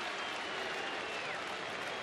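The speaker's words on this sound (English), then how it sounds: "Crowd in support of Yu Darvish saying, come on, Yu, get this thing over with." A baseball crowd at a Rangers–White Sox game cheers steadily for pitcher Yu Darvish, a distant, even wash of applause and voices with no breaks.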